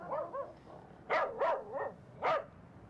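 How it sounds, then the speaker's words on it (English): A dog barks several times in a short irregular series, a couple of softer yips followed by louder, sharper barks, heard fairly close with no talk over them. "the dog is upset"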